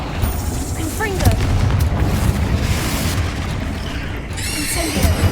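A Confringo fire spell blasts with a booming burst in Hogwarts Legacy, loud and close amid a dense, busy game soundscape of rumbles and mechanical clatter, with sharp bright crackles.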